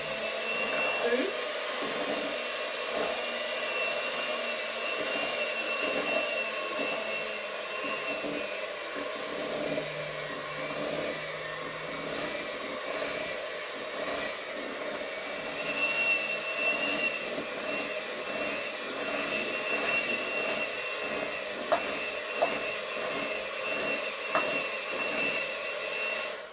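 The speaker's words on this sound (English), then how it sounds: "I like to use an electric mixer." An electric mixer beats sponge pudding batter with vanilla extract, giving a steady whirring motor drone that runs unbroken for the whole stretch, close by and with no one speaking.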